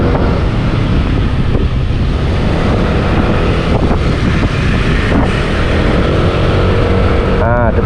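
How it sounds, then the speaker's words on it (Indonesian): A Yamaha NMAX motor scooter rides along a busy city road toward Mount Kelud, its steady engine drone buried in constant wind rush on a helmet-mounted GoPro, with a rider's voice faintly heard. "kita masih menggunakan motor NMAX ya teman-teman"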